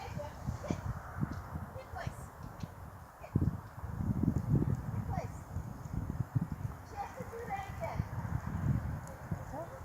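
A horse's hooves clip-clop in a loose, uneven rhythm on soft ground, close by, mixed with rustling and outdoor noise while people talk quietly.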